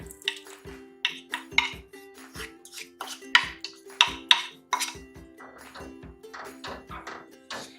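A spoon stirs ground coconut paste into cooked pumpkin curry in a pot, with repeated sharp scrapes and clinks against the metal in an uneven rhythm, close and clear over a faint steady hum.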